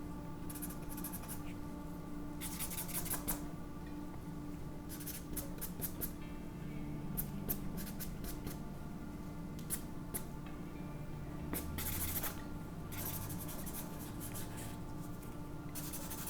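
An old, dirty charcoal blending stump rubbing and scratching across paper in quiet bursts of short strokes with brief pauses, close and soft.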